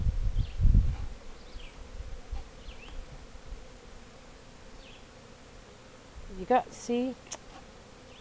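Bees buzz faintly but steadily around a box, a soft continuous drone with a brief louder burst near the start, while a voice speaks briefly toward the end.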